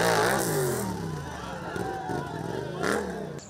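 Motorcycles rev and roar during a professional stunt riding show, engine tones rising and falling with a loud surge near the end, over crowd babble and a nearby voice talking.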